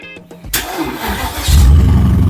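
Porsche Cayenne Turbo V8 with the muffler deleted cranks briefly, then catches and fires up loud and close, settling into a deep, rumbling idle that swells at the end.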